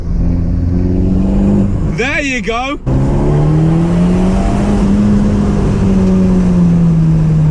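The engine of a 2018 Abarth 124 Spider GT, heard loud from inside on a track with the window down, rising and falling through revs with a sharp gearshift blip, someone speaking briefly over it.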